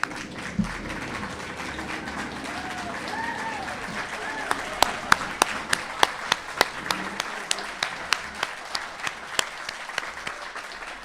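Applause for graduates' family and friends at an internal medicine residency ceremony, a steady wash of crowd clapping with distinct sharp individual claps growing more prominent toward the end, with voices murmuring underneath.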